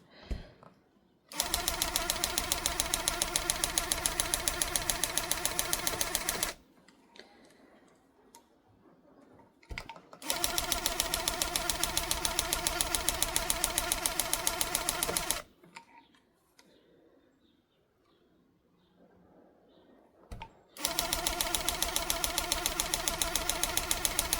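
A tufting gun stitches lines of loop pile in three long bursts of steady, rapid mechanical chatter, loud and close, with short quiet pauses between passes.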